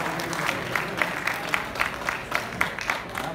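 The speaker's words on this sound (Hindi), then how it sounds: "तो ज़ोरदार तालियों से इस्तकबाल कीजिए एजाज असद साहब का।" Audience at an Urdu mushaira in Doha breaking into sustained applause to welcome poet Aijaz Asad, a dense steady wash of many hands clapping with faint crowd murmur.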